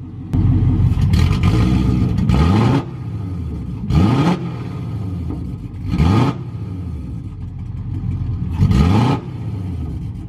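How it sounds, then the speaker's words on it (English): A parked Ford Mustang with a swapped-in Coyote engine revs up close and loud in four or five hard bursts, each falling back to a rumbling idle between them. "park it and rev it. Not crazy, but just rev it."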